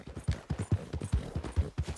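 A horse's hooves clip-clop in a quick, even rhythm of close, firm hoof strikes, alone without talk.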